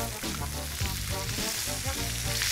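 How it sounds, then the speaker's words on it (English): Butter sizzling steadily in a pan while sole fish is basted, loud and close with continuous crackle and faint scraping, no talk. "make sure that the butter goes all over the fish and cook through the fish this way"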